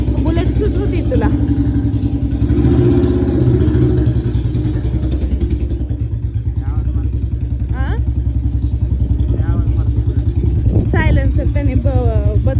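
A Bullet motorcycle fitted with a changed silencer thumps loudly and close in a rapid, steady beat, with people chatting over the engine throughout.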